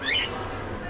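A pet bird on a home balcony lets out one short, shrill squawk close by at the start, then only faint room noise follows.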